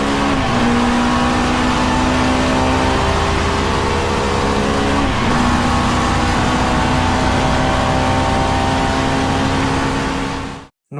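A BMW M3 E30 GTM touring race car with a straight-cut gearbox drones loudly and steadily at high revs, its engine note holding near and constant with a brief shift around the midpoint before cutting off at the end.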